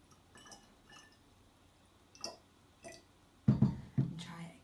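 Water trickles and splashes into a bottle in short bursts, with faint clinks beforehand; the pouring is close and moderately loud near the end.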